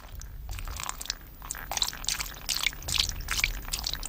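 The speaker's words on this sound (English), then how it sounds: "Bring hither water and sprinkle the room." Water being sprinkled across a dusty room, heard as a steady run of soft wet splatters and drips patterning the floor, fairly close and continuous with no voices.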